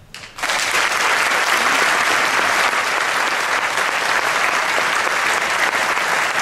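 An audience at the opening of the second Musical Theatre Festival in Gdynia bursts into sustained applause, dense and loud clapping that starts abruptly after a brief murmur and holds steady throughout.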